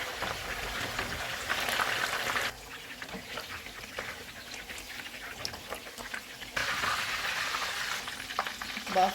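Chicken kebabs sizzle steadily in hot oil over a medium-low flame, a dense, continuous crackle that swells louder twice, with no voices.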